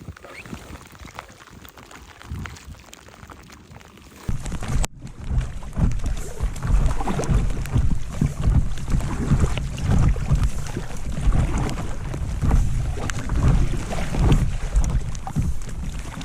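A small pleasure craft being paddled on the water at Brazeau Dam, with steady close splashing and sloshing that grows louder after about four seconds, and gusty wind buffeting the microphone throughout.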